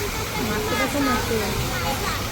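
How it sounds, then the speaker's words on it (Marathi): Steady rushing water from a small artificial waterfall at Mapro Garden, a broad continuous splash and hiss with faint background chatter of visitors. "हा बघा मॅप्रो गार्डन मधला मिनी वॉटरफॉल"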